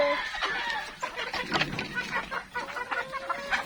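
Native breeder chickens cluck and squawk in quick irregular bursts at close range while being handled, with a faint crow in the mix.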